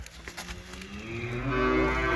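A single long, deep cow moo swells in loudness close by, ending strongly.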